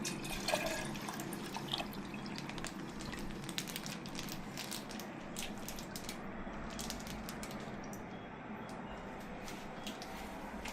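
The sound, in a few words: water being poured into a pressure cooker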